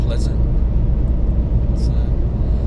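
A car driving home at night from the Blue Mountains, a constant low road and engine rumble throughout, with brief faint higher noises over it.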